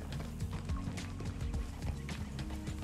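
Horse hooves clip-clop in Red Dead Redemption 2, a steady rapid trotting rhythm on the ground. The sound is close and continuous under dense game ambience, with no talk.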